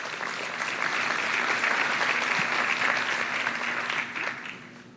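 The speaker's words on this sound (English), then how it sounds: "Now let's give a round of applause to everyone at EDC and Parks who made that happen." A town hall audience applauds in a broad, steady wash of clapping that swells and holds, then begins to thin and fade near the end.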